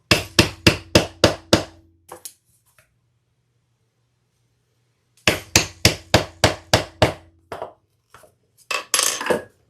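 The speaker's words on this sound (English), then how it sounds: "Let me get my mallet." Sharp mallet blows on handbag-making materials land in quick, even bursts: about five strikes, a pause with a couple of faint taps, then a longer run of steady hammering.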